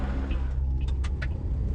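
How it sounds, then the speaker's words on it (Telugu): A car engine runs steadily at close range, its drone holding under brief higher bursts, as the vehicle loses speed after running out of petrol. "ఇదేంటి మన కారు స్లో అవుతుంది?"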